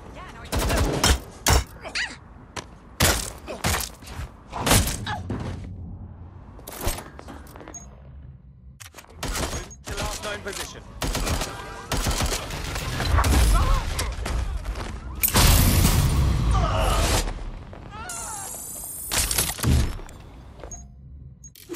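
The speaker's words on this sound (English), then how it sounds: "How many damn fireworks did you have in there?" Fireworks bursting in the video game Watch Dogs Legion: a rapid string of sharp, loud pops and crackles that swell into dense, booming volleys, with voices talking over the barrage.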